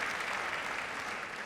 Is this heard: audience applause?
yes